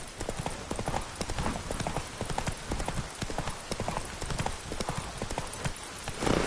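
Hooves of a horse in The Witcher video game clip-clop in a steady, continuous galloping rhythm, close and fairly loud, with a brief whinny-like burst near the end.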